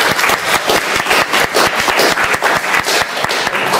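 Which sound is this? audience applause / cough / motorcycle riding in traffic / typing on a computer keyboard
audience applause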